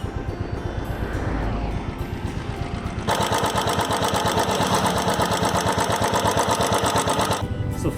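A Royal Enfield motorcycle engine runs with poor acceleration at full throttle, a steady rapid thumping that steps up louder and denser partway through, with faint voice early on.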